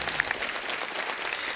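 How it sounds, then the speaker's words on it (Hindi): A studio audience at a comedy show claps in a steady, lively burst of applause, fairly close and sustained with no break. "तालियां जोरदार होनी चाहिए."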